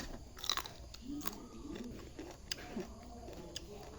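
Close, crunchy chewing of crisp raw vegetables served alongside fish larb at a home meal, with repeated bites and soft mastication over low background noise.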